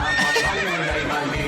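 A horse whinnies loudly, a long wavering neigh filling the moment, with faint hoof clip-clop underneath and no talk.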